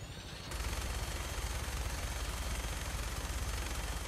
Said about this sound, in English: I actually like the chain gun much better in VR than I like it in the regular game.